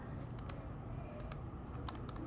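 Mouse or keyboard clicks from someone working in a spreadsheet, building a line chart for a dashboard: several sharp, faint taps spread across a low steady background hum, with no speech.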